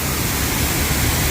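Waterfall in Framingham, Massachusetts: a steady, dense broadband rush of falling water, close and fairly loud, constant throughout with no voices.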